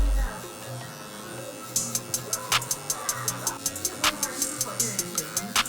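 A Gamma Cyborg hair clipper fitted with a 1 guard cuts hair with a steady motor hum. After a quiet start, a fast rhythmic series of crisp ticks joins the buzz as the blade works through the hair.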